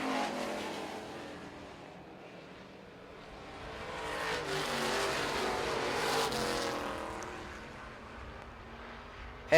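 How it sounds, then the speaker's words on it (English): Street stock race cars roar around the Lancaster Motorplex oval during a heat race, engines rising and falling as the pack runs past, with a louder surge midway and steady motor drone throughout. "Johnson and Piccarelli are at even terms down the back straightaway as Dustin Nova will see the white flag."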